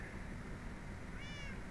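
A cat meows in the video game Minecraft, one short rising call with a faint tonal sweep that sits over a steady, loud wash of game background noise.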